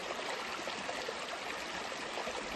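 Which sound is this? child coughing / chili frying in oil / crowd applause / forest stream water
forest stream water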